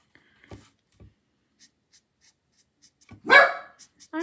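A dog gives a single loud, sudden bark close by in a quiet room, preceded by faint scratching and small taps.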